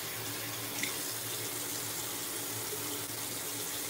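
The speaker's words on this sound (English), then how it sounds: "I'm gonna go ahead and wash out my brush." Tap water runs steadily into a sink while a shaving brush is rinsed out, a close, constant rushing stream that holds at an even level throughout with no speech.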